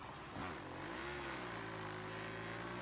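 Motorcycle engine in the MotoGP 25 racing game, a continuous revving drone that dips briefly and then holds a steady high-pitched whine.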